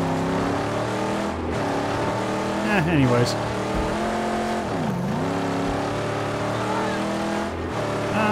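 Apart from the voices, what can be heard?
Mustang car engine driving in video game Mad Max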